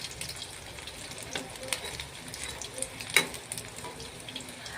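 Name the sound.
frying pumpkin flower fritters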